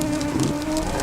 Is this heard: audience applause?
no